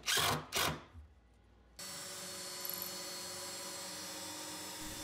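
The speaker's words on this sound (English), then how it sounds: "doing the pre-drilling through the leg assemblies in order to mount it to the torsion box that way" A power drill whines steadily at close range, pre-drilling through wooden leg assemblies after a few brief knocks, holding a constant buzzing pitch through to the end.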